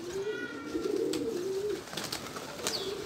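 A pigeon coos close by, one long warbling, rolling call followed by a softer second coo, with faint chirps and background noise around it and no talking.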